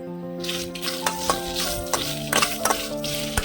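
Sesame seeds and dried red chillies fry in a pan for a Telangana-style cluster bean and sesame dish, giving a continuous close sizzle broken by sharp clicks and scrapes of stirring.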